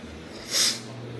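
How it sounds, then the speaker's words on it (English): A single short, breathy cough bursts out once, brief and moderately close, with quiet room noise before and after. "Excuse me, I got a cough."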